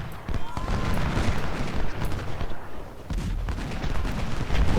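Gunfire and artillery booms from the Civil War battle game Ultimate General: Civil War roll on without pause, with dense overlapping shots and heavy low thuds forming a loud, continuous barrage.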